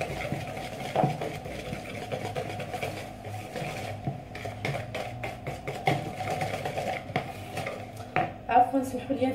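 Cupcake batter of cocoa, yeast and flour is stirred in a bowl, producing continuous close clinking and scraping of utensil against bowl with irregular knocks and a low hum underneath.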